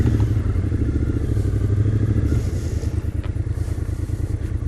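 A motorcycle engine runs steadily close by as a road trip begins from the suburbs of Washington, DC, a low rumbling idle with some light clatter, continuous and loud with no talking.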